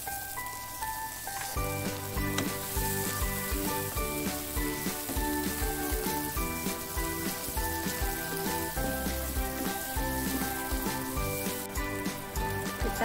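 Tomatoes sizzling in a frying pan over dried, fragrant aromatics for a stir-fried cucumber and petai dish, a steady loud crackle and hiss with background music playing throughout.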